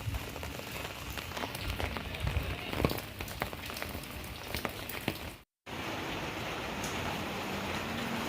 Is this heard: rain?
yes